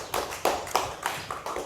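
Scattered hand claps from an audience, a few sharp bursts spaced irregularly over a quiet room tone, with no talking.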